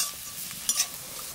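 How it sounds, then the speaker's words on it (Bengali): Onions frying in a pan for a mutton and potato curry, a steady soft sizzle with a couple of brief stirring scrapes near the middle, close and fairly quiet, with no voices. "পেঁয়াজটা ভাজা ভাজা হয়ে গেছে"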